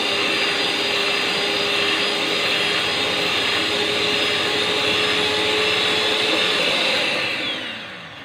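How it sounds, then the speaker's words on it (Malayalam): An electric beater whirs steadily and loudly as three eggs are beaten in a bowl for a chocolate cake, a constant motor drone that winds down at the very end. "ഞാൻ ഇലക്ട്രിക് ബീറ്ററാണ് കേട്ടോ ഉപയോഗിക്കുന്നത്"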